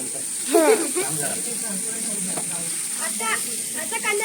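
Chopped onion sizzles in a pan over a wood-fired clay stove while chicken is being cooked. A steady hissing fry runs throughout, and voices talk over it.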